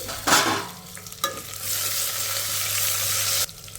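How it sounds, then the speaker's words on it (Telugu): Dried red chillies and curry leaves fry in a pan over a medium flame. A spoon stirs them in two short scraping bursts over a steady, hissing sizzle that stops abruptly near the end, with no talking. "ఇప్పుడు ఎండుమిరపకాయని కూడా 1 నిమిషం ఇలా కలుపుకుంటూ ఫ్రై చేసేసుకోవాలి మీడియం ఫ్లేమ్లోనే"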